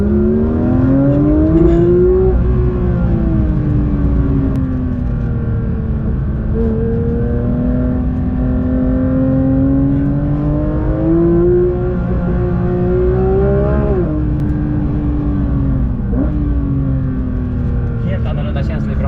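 Porsche 911 GT3 with a Touring-style package driven flat out on an empty track, its engine loudly revving and climbing through gears in repeated rising sweeps, close and continuous from start to finish.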